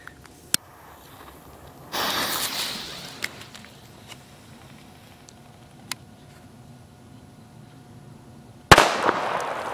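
Katana Superböller firecrackers from a discount-store set, fired outdoors: a sharp crack, then a hissing burst, a few faint ticks, and finally a loud, close bang with a rattling, crackling tail.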